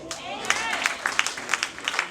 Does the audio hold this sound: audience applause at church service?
yes